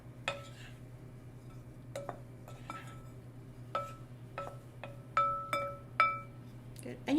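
Bread soaked in oil is stirred in a bowl during a cooking workshop, a spoon knocking and clinking against the bowl in scattered, sharp taps over a quiet steady hum.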